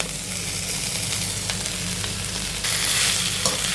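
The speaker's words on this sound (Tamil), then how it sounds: "வெங்காயம் ஓரளவுக்கு வதங்கிச்சு இப்போ உருளைக்கிழங்கு சேர்த்துடலாம்" Potatoes go into a pan of sautéed onions and fry with a dense, continuous sizzle. Stirring scrapes run through it, and the frying grows a little louder toward the end, close and without talk.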